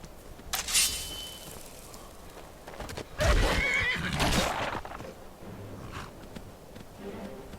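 A horse in the game Skyrim whinnies loudly in two bursts, with hoof clops and scuffling around it and a steady background hum.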